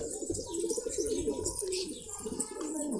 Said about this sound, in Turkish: Bu da üçüncü güvercinimiz. Üçüncü yetişkin güvercinimiz diyelim.